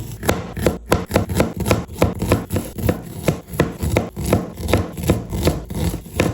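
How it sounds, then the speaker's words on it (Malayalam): A large onion being finely chopped with a knife on a board, a steady run of quick, close, evenly spaced blade strikes with no voices. "ആ സമയം കൊണ്ട് നമുക്ക് സവാള ചെറുതായിട്ടൊന്ന് അരിഞ്ഞെടുക്കാം."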